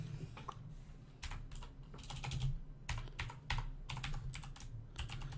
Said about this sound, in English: my keyboard's really clicky because I have a mechanical one.